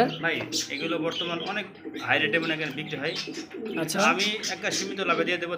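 Black Maltese pigeons with giraffe-like necks, kept for sale, coo softly in the background while someone talks loudly and continuously over them.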